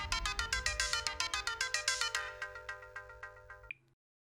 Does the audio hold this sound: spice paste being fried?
no